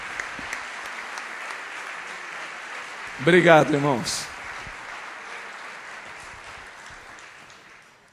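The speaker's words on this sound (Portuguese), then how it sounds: "Vamos dar uma salva de palmas para os nossos irmãos aqui." Church congregation applauding during a service, a short burst of clapping lasting about a second, with a preacher's voice speaking before and after it.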